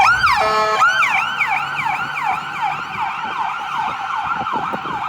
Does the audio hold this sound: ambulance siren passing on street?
yes